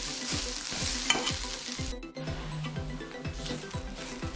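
Green gram and grated coconut sizzle steadily as they are roasted in a hot pan while a utensil scrapes and stirs in a regular rhythm, close and fairly loud, with no voices.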